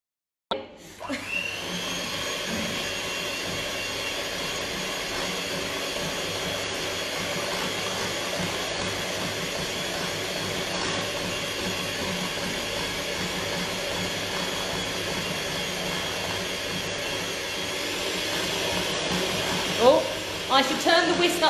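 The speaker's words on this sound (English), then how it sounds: "I should turn the whisk up to a higher speed this time" An electric whisk runs steadily while mixing cake batter in a home kitchen, a close, loud, continuous motor whine holding for about twenty seconds before a brief clatter at the end.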